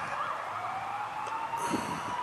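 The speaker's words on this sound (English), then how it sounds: "Actually, that's an ambulance siren." An ambulance siren wailing steadily at a distance, a sustained rising and falling tone heard alone, moderately loud throughout.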